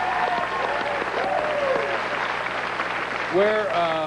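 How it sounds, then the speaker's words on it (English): A studio audience on the Late Show applauds steadily for an actress guest, a broad wash of clapping that runs the whole time while voices talk over it. "they're applauding her resume"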